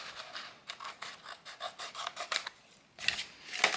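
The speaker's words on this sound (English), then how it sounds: "I'm just going to cut this down to size first" Scissors trim a faux rhinestone craft sheet to size, a close series of rapid rasping snips in steady rhythm, then a short pause and a few louder cuts.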